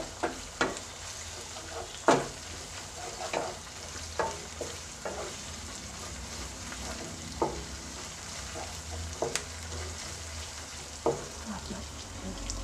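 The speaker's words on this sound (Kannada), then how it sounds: "ಶುಂಠಿ ಬೆಳ್ಳುಳ್ಳಿ ಪೇಸ್ಟು ಹಸಿ ವಾಸನೆ ಹೋಗೋವರೆಗೂ ಚೆನ್ನಾಗೆ ಫ್ರೈ ಮಾಡ್ಕೋಬೇಕು" Ginger garlic paste frying in a pan for egg rice, with a low, continuous sizzle broken by irregular spoon scrapes and taps against the pan. Close and moderate in volume, with no speech.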